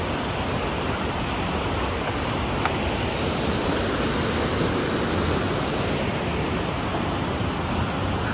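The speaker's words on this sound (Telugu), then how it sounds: "పైనుంచి వాటర్ పట్టుకుంటూ వస్తున్నాయి కిందికి ఇట్లా." Water streaming down from the hills along a bamboo trek route, a steady broadband rush that stays loud and unbroken throughout, with no voices over it.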